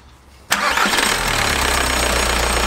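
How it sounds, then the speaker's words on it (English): A VW MK4 Jetta/Golf with a TDI ALH diesel engine cranks and fires abruptly after a short quiet moment, then settles into a loud, steady, clattering idle up close. "That's a running TDI engine"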